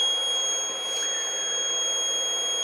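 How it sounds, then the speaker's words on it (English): A lensless transformer (magneformer) running at its resonant frequency gives off a loud, steady, high-pitched tonal hum that holds unchanged throughout, with no talking. "that hum is quite loud at this frequency"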